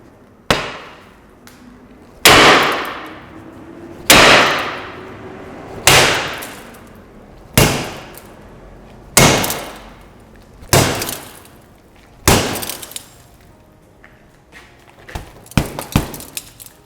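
Tempered security glass, an 8mm inner pane with a 7mm exterior attached, takes about eight heavy blows at steady intervals. Each loud impact rings with a shattering crash that fades out, ending in a flurry of smaller cracks and knocks.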